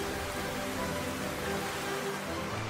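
Heavy rain pours down in a dense, unbroken hiss that holds steady and loud from start to end, with no voices over it.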